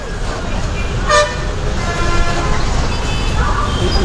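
A bus travelling from Bhimavaram to Vijayawada sounds a short, loud horn toot on a roadway, heard over steady engine and traffic noise.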